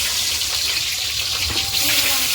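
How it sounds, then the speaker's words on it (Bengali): Onions drop into hot oil in a frying pan, setting off a loud, continuous hiss and crackle close by, with a faint voice underneath. "আমি এখন পেঁয়াজ দিচ্ছি"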